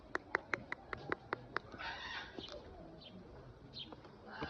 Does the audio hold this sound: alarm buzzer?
no